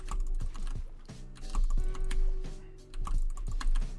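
Quick bursts of keyboard clicks and taps while building in Fortnite, close up, layered over busy game sounds and a low rumble, no talking.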